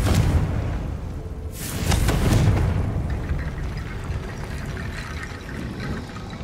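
A Confringo fire spell explodes in the Hogwarts Legacy video game: a broad, rumbling blast swells and fades over about a second amid steady game ambience.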